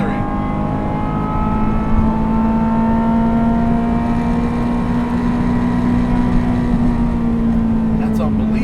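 A Ferrari F355 GTS V8 with a manual gearbox holds a loud, steady engine note throughout, revving and accelerating with a strong sustained tone and rising harmonics up close.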